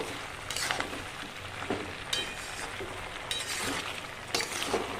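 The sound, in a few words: stirring curry in a pan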